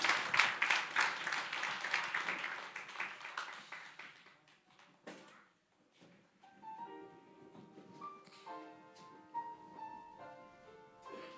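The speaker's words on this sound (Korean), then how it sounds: "다시 한번 박수 부탁드릴게요." An audience at a church worship concert claps and applauds loudly, then the applause fades away and instrumental music begins softly.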